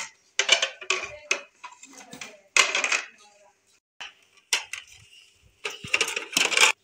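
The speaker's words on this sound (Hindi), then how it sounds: "तो ये देखिए ये ना डिनर सेट वाले बर्तन है।" Dinner set dishes handled at home during household tidying, with several separate clinks and clatters of crockery in short bursts and pauses, up close, with no talking over them.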